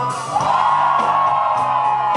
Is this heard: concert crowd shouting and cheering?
yes